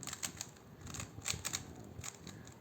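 A Rubik's cube is twisted in a random shuffle, producing quick, dense plastic clicks and rattles in irregular bursts, close and moderately loud, with no talking.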